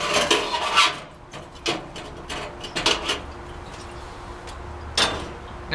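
Metal parts of a Coleman three-burner liquid fuel stove clink, scrape and rattle as the fuel tank and grate are pulled off, giving a run of short, close knocks and rubs with quiet pauses between.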